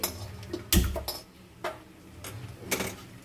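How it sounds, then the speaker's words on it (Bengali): A gas stove igniter in a home kitchen clicks as the burner is lit while cooking Bengali evening snacks, giving several sharp, irregularly spaced clicks at close range with no talking. "গ্যাসটা জ্বেলে দিচ্ছি"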